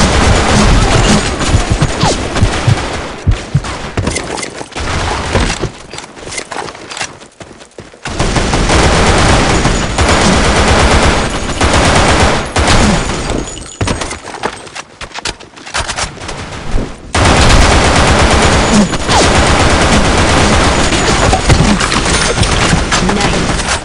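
Rapid automatic gunfire rips out in long, loud, sustained bursts from a weapon in the BlackShot video game on the Lost Temple map, broken by brief pauses that leave fainter shots and clatter before the firing resumes.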